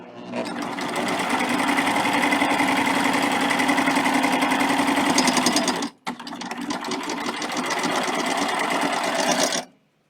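A sewing machine runs at steady high speed stitching binding onto a quilt, loud and close, with one brief pause midway before it continues and then stops.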